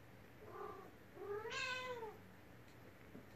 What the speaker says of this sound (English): And you hear the cat again.